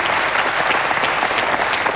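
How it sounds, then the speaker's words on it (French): Studio audience applauding on a French TV talk show as a guest named Sandrine is welcomed: dense, steady clapping from many hands, loud and continuous throughout with no talk. "Je vous propose pour l'encourager de l'accueillir et de l'applaudir."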